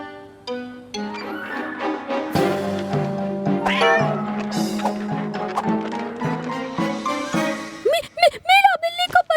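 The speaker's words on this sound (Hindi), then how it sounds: "मीला बिल्ली को बचाओ।" A cartoon cat gives a quick run of high, wavering meows near the end, loud and close, after a stretch of bright background music.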